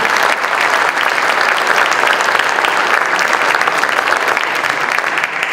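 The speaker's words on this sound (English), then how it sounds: "how about a nice round of applause for all these coaches and everything they've done this year" Sustained, loud applause from an audience at the Otto Graham Awards ceremony honoring coaches, a dense, even roar of many hands clapping throughout with no pause.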